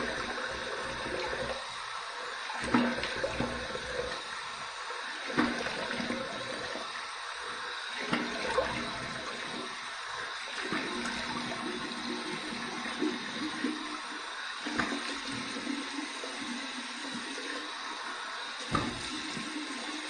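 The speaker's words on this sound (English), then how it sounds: "Here's my warm water rinse." Warm water runs steadily from a bathroom tap while a face is rinsed after a wet shave, a constant close splashing hiss with small irregular spatters and drips throughout.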